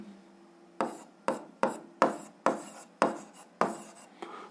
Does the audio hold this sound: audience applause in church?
no